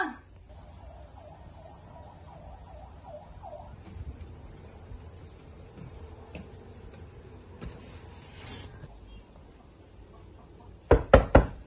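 Knocking on a bedroom door arrives as a quick burst of three loud, sharp raps at the very end, following a long stretch of quiet room noise with a faint wavering alarm-like tone early on.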